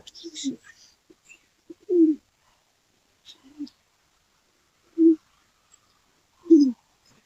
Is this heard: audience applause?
no